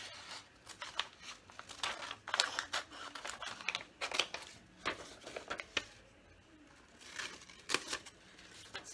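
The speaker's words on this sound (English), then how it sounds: "I'm going to cut off the inside bits and create a flap. So I'm going to cut across here." Scissors cut through paper to make a flap for a handmade grab bag, giving quiet, close, irregular snips with light paper rustling between them.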